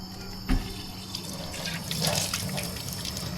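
Water runs steadily from a tap into a sink at a campsite washing area, a continuous close splashing flow with a brief louder knock near the start and no talking.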